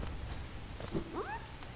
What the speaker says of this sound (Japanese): 猫の鳴き声がする。